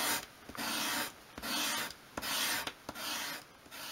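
Sandpaper rubs along a small wooden edge of a 1/12 scale craft-shed wall cupboard in four rhythmic back-and-forth strokes, close and fairly quiet, with brief pauses between passes.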